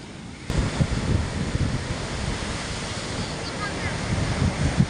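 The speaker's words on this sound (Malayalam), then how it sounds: "കടൽ നല്ല കലങ്ങി ഉള്ളത് അടിമോളും എന്താ പറയുക കലങ്ങി മറിഞ്ഞിട്ടാണ് കടലുള്ളത്" Rough, churned-up sea breaking on the coast at Chaliyam, a continuous loud roar of surf mixed with gusty wind buffeting the microphone.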